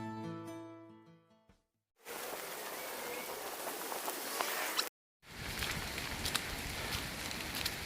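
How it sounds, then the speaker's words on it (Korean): Steady rain hisses across the open mountain trail of Suri Mountain on a wet hike, a dense even wash of drops broken by a brief gap, following a short burst of tonal music. "우리만 비 오는 산을 걷고 있습니다."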